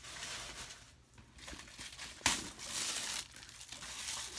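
Plastic wrapping crinkles and crackles up close as it is pulled off purse handles, irregular rustling bursts with one sharp louder crackle midway, fairly quiet overall.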